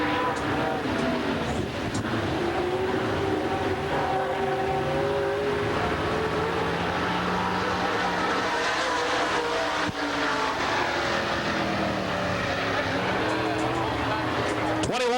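Race car number 68, with a Rocket chassis and a Dream Racing engine, drives its lap in a 1998 Hav-A-Tampa series race. A loud, continuous engine roar rises and falls beneath a public-address announcer's voice.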